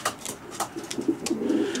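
Racing pigeons coo in a loft near Bucharest, Romania. Soft, low, repeated coos sound close by and carry through most of the clip, with light rustling between them.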